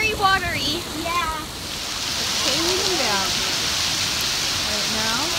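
Heavy rain pours steadily in Banff, a dense, close hiss that fills the background while voices talk over it.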